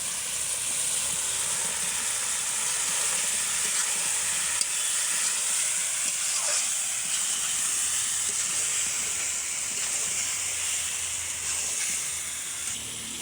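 Potatoes and whole garlic cloves go into beef that is already frying, producing a loud, steady, hissing sizzle that runs for the whole stretch with only small shifts in texture.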